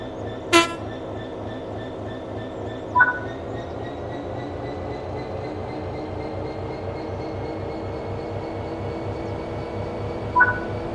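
Class 66 diesel locomotive in the Train Sim World video game, a steady low engine drone and rumble with a few short clicks and beeps from the cab controls spaced across the clip.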